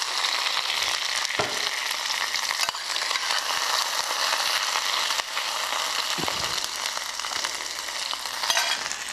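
Homemade meatballs simmering in sauce, a continuous close sizzle and bubbling hiss with occasional soft knocks of a spoon or pan.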